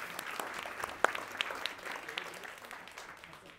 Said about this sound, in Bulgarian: Аплодисменти за Иван.